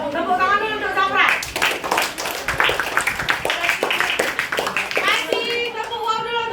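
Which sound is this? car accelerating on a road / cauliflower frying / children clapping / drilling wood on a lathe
children clapping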